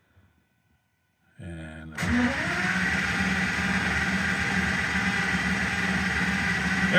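An Aston Martin V12 engine cranking over to build oil pressure, starting abruptly after near silence and holding a steady, loud, droning whir with a low hum.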